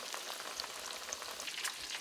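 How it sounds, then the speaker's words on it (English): Panko-breaded pheasant pieces fry in hot oil, giving a steady, faint crackling sizzle with tiny pops throughout, no voices. "Right into your hot oil."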